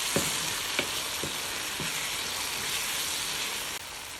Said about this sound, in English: you need to crush it into the sauce, like so. Right, and then you mix